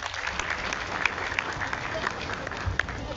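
Students in a programming class give a round of applause, a steady patter of claps at moderate volume with a few sharper individual claps and some voices mixed in.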